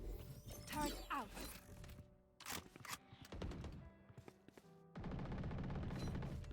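A deployed turret firing in a shooter video game, bursts of rapid mechanical gunfire with clattering pauses between, ending in a denser sustained rattle of shots.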